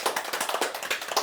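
Audience applause at a forum lecture: a small group claps in a quick, uneven rhythm of distinct hand claps, close and moderately loud, with no talking.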